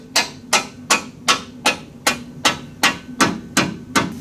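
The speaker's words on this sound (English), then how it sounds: "I'm going to go ahead and just tap in the pivot bolt very gently" A hammer gently taps a suspension pivot bolt into a DeLorean's rear suspension: about ten crisp, evenly spaced metallic knocks, close and steady.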